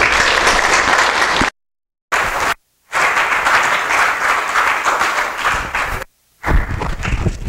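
An audience applauds to welcome a speaker with loud, dense, sustained clapping close by. The applause breaks off abruptly several times with short silent gaps.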